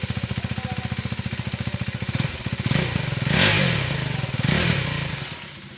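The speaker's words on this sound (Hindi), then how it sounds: "ये मशीन दहाड़ने को हो रही है" A 2025 KTM Adventure 390 motorcycle engine, loud and close, thumps at idle before the throttle is blipped into two or three sharp, rising revs that fall back down.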